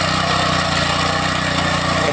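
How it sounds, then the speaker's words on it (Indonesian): A small two-wheel tractor cultivator works while shaping raised garden beds, its engine giving a steady, loud droning hum with a regular low pulse throughout, close by and continuous. "traktor roda dua yang kecil ya teman-teman, namanya kultivator ya teman-teman"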